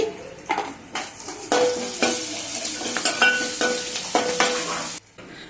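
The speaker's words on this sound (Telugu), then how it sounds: "ఇవి కొంచెం వేగుతానే పచ్చిమిరపకాయలు వేసుకోవాలండి కొంచెం పసుపు అండి" Green chillies and turmeric fry in an oil-filled pan, a loud close sizzle broken by scraping stirs and light clinks of a spoon against the metal, with a brief quiet moment near the end.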